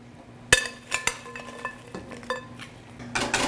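Shrimp drop into a hot pan and begin cooking, with a sharp initial clatter, several metallic utensil clinks and scrapes, and a soft sizzle rising toward the end.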